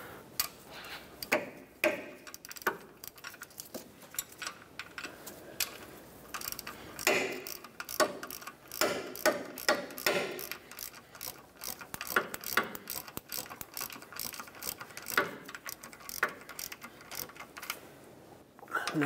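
A ratchet wrench tightening the catalytic converter mounting nuts on a Ford Escape, a long run of rapid clicking strokes, close and fairly loud, with brief pauses between bursts and no voices.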